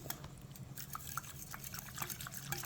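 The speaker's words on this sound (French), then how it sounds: "on va venir bien mélanger tout ça là. Jusqu'à obtenir un liquide vraiment homogène sans grumeaux" Pistachio liquid being stirred by hand until smooth for a pistachio sauce, giving soft wet sloshing and light drips that continue steadily throughout at close range, with no talking.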